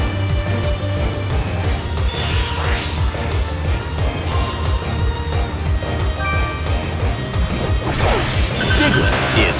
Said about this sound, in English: Rockslide tumbles down.